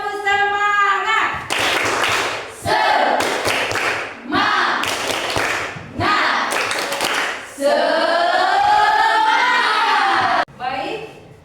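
Indonesian classroom doing a rhythmic spirit clap: patterned bursts of hand claps alternate with loud chanting voices, repeating in groups and ending in a sustained sung or shouted phrase, close and loud.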